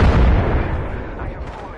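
A single loud, close blast of gunfire in the Apex Legends video game hits hard and then fades into a rumbling tail that lasts under two seconds.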